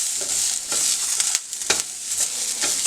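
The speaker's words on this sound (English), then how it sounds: "And we're just going to saute that up" Bell peppers and carrots sautéing in oil in a pan, a steady close sizzle with a few louder crackles and stirring scrapes, no voices.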